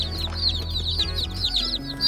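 Young meat-bird chicks just brought home chirp and cluck together in a busy, continuous chorus of high peeping calls, close and steady, with no talking.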